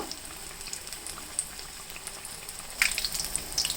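Green chillies frying in hot oil for mirchi bajji, a soft steady sizzle with faint crackles and pops that grow brighter toward the end.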